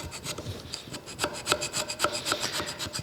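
Short rhythmic rasping strokes of a hand scraper on the cast iron saddle of a planer, dovetail surface, repeating roughly every third of a second, close and steady with no talk.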